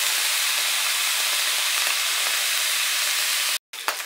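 Thin slices of beef bacon frying in a pan give a steady, loud, close sizzle and crackle with faint pops, broken by a brief silence near the end before the sizzling resumes.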